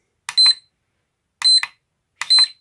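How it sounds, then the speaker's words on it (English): An Imax B6 battery charger sounds three short electronic beep pairs in quick succession, bright and high-pitched, separated by brief silences. "what you don't really want is the constant beeping"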